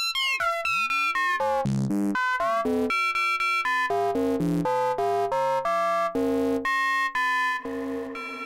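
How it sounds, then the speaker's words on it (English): A Plaits Eurorack synthesizer module in phase distortion mode plays a rapid sequence of bright, harmonically rich synth notes, some sweeping and bending in pitch, loud and continuous with no talking. "Alright, now this is phase distortion."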